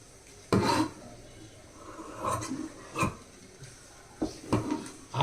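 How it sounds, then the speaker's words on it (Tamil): Scissors cut through marked blouse lining fabric in separate scraping snips, a few short crisp bursts spaced irregularly with quiet rustling between, close to the listener. "இப்போ நம்ம கட் பண்ணி எடுத்துடலாம்."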